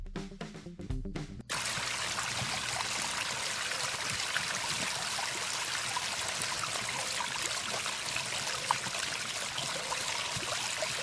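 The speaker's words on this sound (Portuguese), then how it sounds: "Então nós temos ali o som específico de uma cachoeira." A waterfall roars in a steady, dense wash of rushing water that fills the scene at close range, following a short burst of other sound at the opening.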